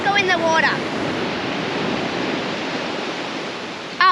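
Cold ocean surf at a beach in Albany, Western Australia, a steady broadband wash of breaking waves filling the whole stretch, with brief bursts of talk at the start and end.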